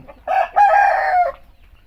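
A single loud, close crow from a Lampang breed rooster in Thailand, a short opening note followed by a long drawn-out call, with quiet surroundings.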